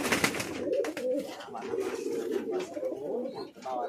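Fancy pigeons coo steadily in a breeding loft, a low continuous murmur from several birds close by, with someone talking over them throughout.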